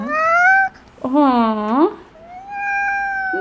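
A cat in The Sims video game meows three times, each meow clear and close with a rising, drawn-out middle call, while a person briefly exclaims over it.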